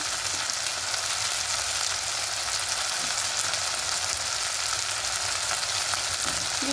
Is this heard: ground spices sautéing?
yes